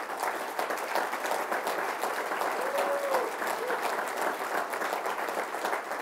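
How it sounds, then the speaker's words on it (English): A roomful of people applauds, with dense, even clapping sustained throughout at moderate distance. "I think that James Harris and Doug Williams deserve the round of applause"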